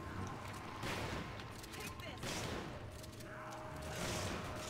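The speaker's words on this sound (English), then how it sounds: "I like this shotgun a lot more." Shotgun blasts in the video game Resident Evil 5, a few loud booming shots spaced apart amid game sounds and background noise, with a voice talking faintly underneath.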